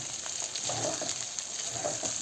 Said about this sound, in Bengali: আলুগুলো ঢেলে দিলাম এবার একটু নাড়াচাড়া করছি